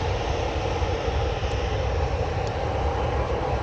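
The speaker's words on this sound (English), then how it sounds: "a Ryanair 737-800 with split scimitar winglets is just taxiing out to runway 5 left there" A Ryanair Boeing 737-800 with split scimitar winglets taxis toward the runway at an airport, its engines giving a steady, loud broadband roar that holds level throughout with no talk.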